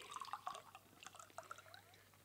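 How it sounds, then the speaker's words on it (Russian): Water is poured into a bottle as a radio-play sound effect, a faint close series of splashy drips and gurgles that rise and fall in short bursts. "Так, нальем теперь в бутылку воды."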